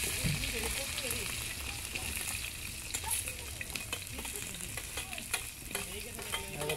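Ginger, garlic and onion fry in hot oil in an outdoor village kitchen in a mango orchard, giving a continuous close sizzle broken by repeated scraping stirs and small pops.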